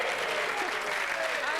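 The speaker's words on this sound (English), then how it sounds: "You got a round of applause for that." A studio audience on a Euro 2004 football comedy show bursts into a brief, loud round of applause, with a voice talking over the clapping.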